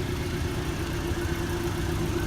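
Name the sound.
Porsche 718 Boxster S 2.5-liter turbocharged engine idling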